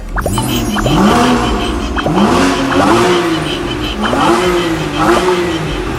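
Porsche Boxster 981 with a six-cylinder 2.7L engine, revved repeatedly nearby after warming up, with several rising and falling throttle blips over a steady idle rumble and a faint voice in the background.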